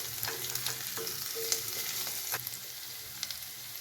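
Sliced potatoes and onions fry in oil in a pan, a steady bright sizzle broken by scattered clinks and scrapes of a spoon stirring, close and even, with no talking.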